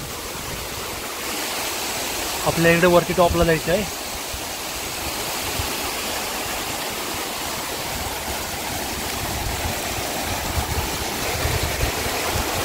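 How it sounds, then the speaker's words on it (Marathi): A waterfall and stream in the Sahyadri hills on the Nageshwar trek rush with a constant, loud hiss of flowing water, while someone speaks briefly over it early on. "इथे खाली वॉटरफॉल तयार होतो आणि हेच पाणी खाली जात आहे"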